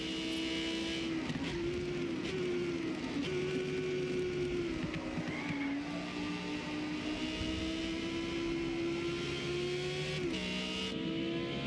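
Lamborghini Huracan STO engine in a racing game, a steady droning tone that climbs and dips with throttle and shifts, continuous and fairly near, with no talking over it.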